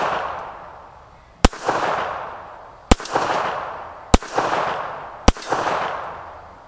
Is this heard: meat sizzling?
no